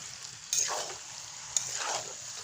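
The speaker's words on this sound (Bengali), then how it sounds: "ভালো করে কষাবো, মিনিমাম 10 মিনিট এটাকে কষাবো আমি, যাতে এর মধ্যে থেকে তেল বেরিয়ে আসে।" Chicken skin sizzles as it sautés in oil in a pan, with a steady frying hiss and two swells of scraping as a spoon stirs it, one ending in a sharp tap.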